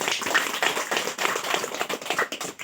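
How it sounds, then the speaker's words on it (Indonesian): Applause from a group of women at a community stunting-prevention session, a dense patter of hand claps held steady throughout and fairly close, with no talk over it. "Kita kasih aplaus tepuk tangan"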